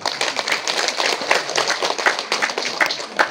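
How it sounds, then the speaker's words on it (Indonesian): A crowd claps for Pak Haji at the opening of Kampung Kopi Sugara in Karanggintung, a steady, dense patter of many hands that keeps going at an even level with no pauses. "Tepuk tangan Pak Haji"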